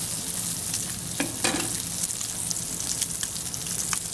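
Yellowtail fish sears in a very hot cast iron pan, giving a loud, dense, continuous sizzle with scattered crackles and pops close by, and no talking.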